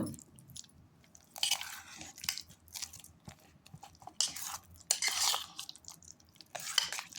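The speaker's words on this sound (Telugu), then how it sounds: "ఇలా అన్నీ కలిసేలాగా బాగా కలుపుకోండి" Spiced pani puri filling with turmeric and coriander powder being mixed by hand or spoon, soft irregular scraping and squishing bursts separated by pauses, close and fairly quiet, no talking.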